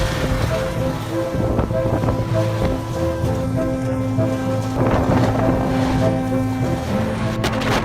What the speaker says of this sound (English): the force of rain pouring down like a waterfall and winds strong enough to turn a car into a toy